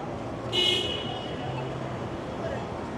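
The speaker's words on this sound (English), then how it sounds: "I'm not sure what that car is doing, just going slowly along," A short car horn toot sounds once amid steady street traffic noise in a nightclub district, with a second fainter honk later, somewhat distant.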